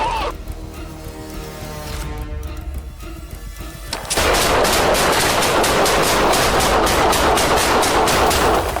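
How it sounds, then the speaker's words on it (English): Gunshots during a police confrontation with a suspect: a tense stretch of muffled commotion, then a loud, sustained volley of rapid shots that keeps going to the end. "Shots fired!"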